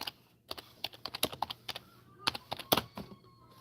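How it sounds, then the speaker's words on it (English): Clattering computer keyboard keys typing a road rage search into Google, a quick irregular run of close, crisp clicks with short pauses, ending in a few harder key strikes. "You go in right now on Google and you type in road rage."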